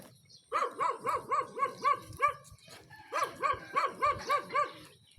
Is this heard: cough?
no